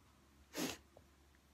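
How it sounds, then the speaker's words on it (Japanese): A single sharp sneeze bursts out close by, followed by a quiet sniff in an otherwise still room. "くしゃみです"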